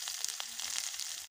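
Whole cumin and chopped onion fry in hot oil with a dense, even sizzle and a couple of small crackles, cutting off abruptly at the end.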